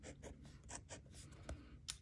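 Extra fine fountain pen nib, a Hong Dian Black Forest, scratching across paper in a quiet run of soft strokes with audible feedback, close and faint, no voices.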